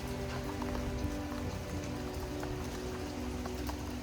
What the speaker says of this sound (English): Right now it's just a steady rain, not too bad.